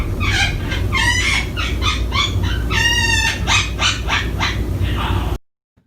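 A pet parrot mimics human laughter with a loud, close run of harsh, rhythmic ha-ha bursts, some drawn out, over a constant background hum before cutting off abruptly.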